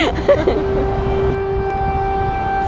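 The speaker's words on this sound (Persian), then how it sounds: "بعد از ظهر آژیر خطر به صدا در میاد" Air raid warning siren sounding across a city in Ukraine, a steady sustained wail holding one pitch, distant and even, over a low background rumble with faint clatter at the start.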